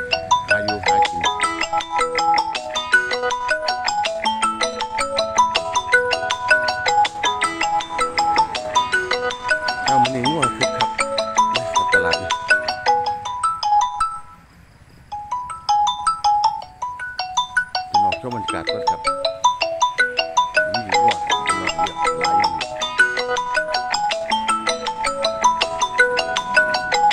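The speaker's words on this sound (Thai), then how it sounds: "เสียงโทรศัพท์ไปก่อน" A mobile phone ringtone plays a loud, looping electronic melody at a cattle and buffalo market, repeating for nearly half a minute with one brief break midway.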